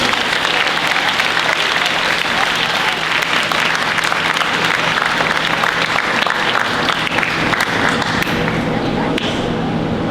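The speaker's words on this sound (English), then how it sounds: "I'm going to call them up one at a time so you can applaud them individually" Steady, loud applause from an audience at a junior high school year-end awards ceremony, clapping continuously for a student called up to receive a perfect attendance award, with crowd noise throughout.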